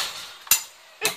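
Two sharp metallic impacts about half a second apart as SG5 shotgun pellets strike a steel plate target roughly seven meters away at an outdoor range, each a bright ringing clank over faint background noise.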